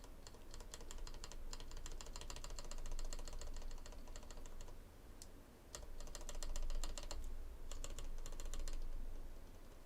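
Typing on a KBDFans Tiger Lite mechanical keyboard, quiet rapid clacking keystrokes in bursts with brief pauses, heard over a steady low background hum.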